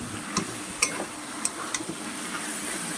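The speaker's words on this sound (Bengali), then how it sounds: "এবার মোচাটাকে ভালো করে নাড়তে হবে" Chopped banana flower being stirred in a wok, a low continuous sizzle punctuated by several light, sharp ticks of the spatula against the pan, no talking.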